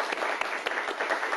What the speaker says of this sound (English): Nice round of applause for both of our high school teams playing today.